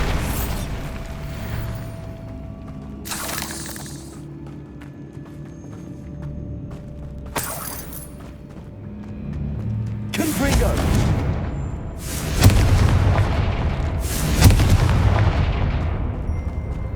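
Bombarda explosion spell going off in Hogwarts Legacy, several loud broadband blasts erupting in sequence over a rumbling background, the later bursts dense and sustained.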